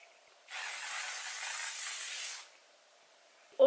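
One sustained hiss of a makeup setting mist spray lasting about two seconds, close and steady, followed by quiet and a brief click.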